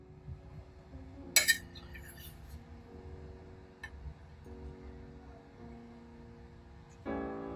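Cooked sella rice is spooned onto a plate, with quiet clinks of a metal spoon against the dish and a few sharper scraping taps in an otherwise calm kitchen.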